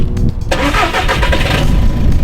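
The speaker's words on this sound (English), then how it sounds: "Time to do the obligatory YouTube startup with little or less exhaust" A BMW E46 330Ci with a reduced exhaust cranks and fires up, the starter whir giving way to a loud, close engine catch and a settling, rumbling idle.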